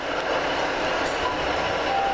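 A train stands at a station platform, giving a steady, close hum and hiss with no talk over it.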